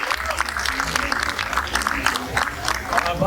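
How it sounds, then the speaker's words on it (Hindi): An audience applauds loudly for three performers at a spoken-word slam poetry event, a dense steady clatter of many hands clapping throughout, with some crowd voices mixed in. "एक बार तीनों लोगों के लिए जोरदार तालियां बजा दीजिए प्लीज।"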